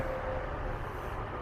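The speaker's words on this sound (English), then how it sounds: "That noise you hear behind me, that's Interstate 44." Steady low rumble of distant highway traffic on Interstate 44, heard from inside a store building in Hooker, Missouri: a faint, continuous wash with no distinct passing vehicles.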